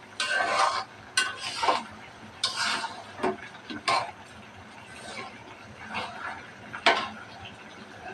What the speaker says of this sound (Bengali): গোসটা আবার একটু নাড়াচাড়া করে নেবে